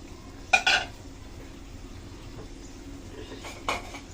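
Tomatoes dropped into a pan for a fish curry with green banana and potato make two brief, splashy clatters a few seconds apart over a quiet background simmer.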